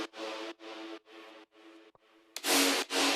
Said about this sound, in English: I also have like this drop stab